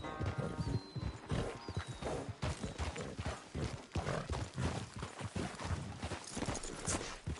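Quick clip-clopping horse hooves patter steadily throughout in the video game Red Dead Redemption, with a whinny near the start, sounding close and moderately loud.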